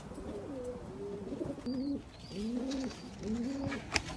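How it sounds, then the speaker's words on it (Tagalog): Pigeons coo softly and repeatedly, several rolling calls overlapping in a steady rhythm, fairly close against a noisy outdoor background with no talking. "Ayan mga kalapatids."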